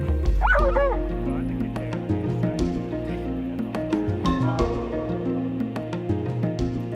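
Rescue patrol dogs bark, yip and whimper in a busy chorus, with loud overlapping calls throughout and some talk in the background.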